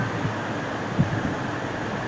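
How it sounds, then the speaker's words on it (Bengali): Steady rumble and rush of a passenger train speeding past Mecheda station on the way to Puri, heard from inside the carriage with wind noise and a brief thump near the middle, no voices. "এখন আমাদের ট্রেন খুব স্পিডেই বেরিয়ে যাচ্ছে মেচেদা স্টেশন"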